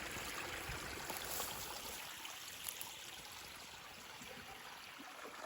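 Creek water flows steadily nearby, a continuous broadband rush and trickle without pauses, fairly close and moderately loud, with no voices.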